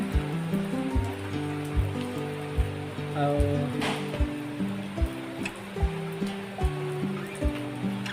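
Heavy rain pours in a hilly area, a steady broadband hiss running throughout beneath a louder, rhythmic, pulsing tonal sound.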